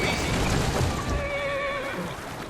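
A horse in the Assassin's Creed Syndicate video game gives a long, wavering neigh over a busy, rumbling street background, clear and fairly close.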